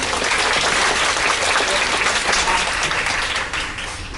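Theatre audience applauding the director after a stage performance, a dense, loud, continuous sheet of clapping from many hands that holds steady and dips slightly near the end.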